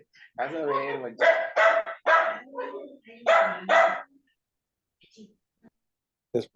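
A small dog barks in a quick run of sharp, high yips and barks for about four seconds, close and fairly loud, then falls silent with only a faint trailing yelp.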